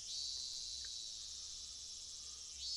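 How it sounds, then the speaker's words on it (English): Cicadas drone in a steady, dense chorus within the Higurashi video game, a continuous high shrill buzz holding at even loudness throughout with no voices. "The great chorus of cicadas was strongly underlining how nothing was different today than yesterday."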